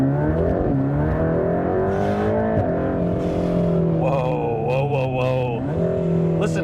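A car engine revs close by at a cars and coffee meet, with rising harmonics as it accelerates, dipping briefly before climbing again, with some voices mixed in.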